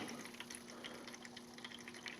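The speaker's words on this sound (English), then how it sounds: "Got my siphon started, and I'm running the wine down into the bucket" Homemade sulphite-free wine running through a siphon tube into a bucket, a faint steady trickle and gentle splashing with a low hum underneath.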